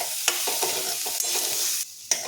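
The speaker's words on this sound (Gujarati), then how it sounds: "ગાજર એકદમ સોફ્ટ થાય ત્યાં સુધી આપણે ગાજરને ઘીમાં સાતળવું। આ રીતે આપણે સતત હલાવતા રહીશું।" Grated carrots stirred and sautéed in ghee for carrot halwa made with jaggery, a close sizzle under quick repeated scraping of a spoon against the pan, briefly dropping out near the end before a final stir.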